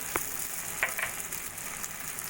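Tomato, ginger, cashew and dry red chilli paste frying in oil with salt and turmeric for mocha kofta curry, a steady close hiss broken by a few light stirring clicks.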